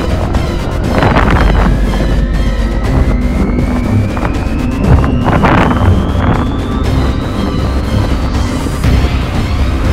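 Strong storm wind roars and buffets steadily during an aircraft's crosswind landing, loud and gusty throughout, with a rising engine whine building beneath it.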